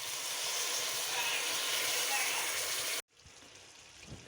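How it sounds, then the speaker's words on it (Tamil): Coconut milk pours steadily into a pan of mutton gravy with a continuous hiss, then cuts off abruptly, leaving quiet background noise. "தேங்காய் பால் ஊற்றிக்கலாம்"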